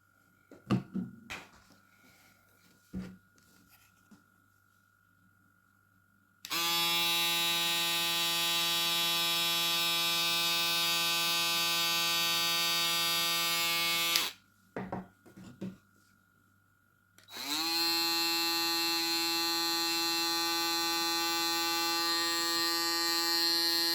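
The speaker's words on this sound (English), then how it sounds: "It's really a good shaver." A Ufree U-1668 electric shaver buzzes loudly and steadily in two long runs, with a brief pause and some handling clicks between them.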